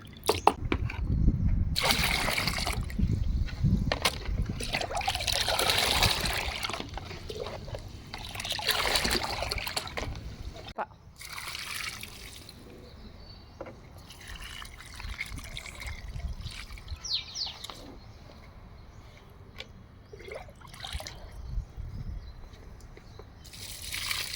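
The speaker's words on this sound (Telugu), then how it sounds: "ఇది ఇంకా కొంచెం వాటర్ వేసి డైల్యూట్ చేసేసి అన్ని మొక్కలకి ఇస్తే" Water poured into homemade plant fertilizer to dilute it, trickling with splashy bursts at first that soften into a quieter dribble, close by.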